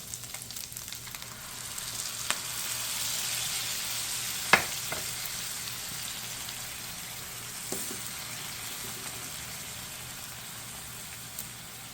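Ground beef simmering in a cup of beef broth in a pan for loose meat sandwiches, a soft, steady sizzle and bubbling with a few light clinks of a utensil.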